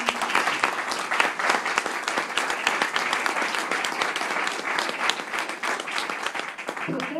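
Steady, dense applause from a museum audience honoring a professor, sustained and even throughout, with faint voices mixed in.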